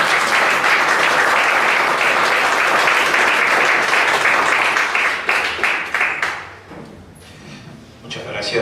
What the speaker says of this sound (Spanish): para quien pedimos fuertes aplausos.